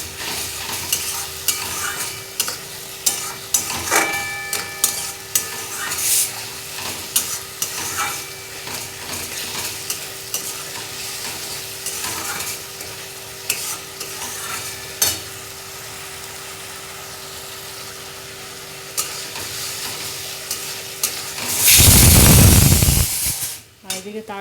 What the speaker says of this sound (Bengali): তো এটা ভালো করে একটু কষে নিই।